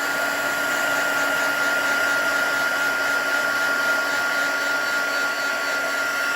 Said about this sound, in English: Got to wait for a second for my heat tool to warm up